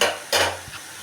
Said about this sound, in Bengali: তাই প্রথমে শাকটা রান্না করে নিচ্ছি রসুন দিয়ে ভাজবো